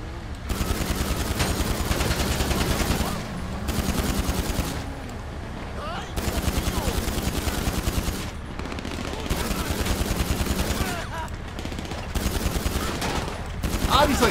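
Rapid chain gun fire from a helicopter in GTA 5 Online, loud sustained automatic bursts rattling in long stretches with brief gaps between them and little else audible.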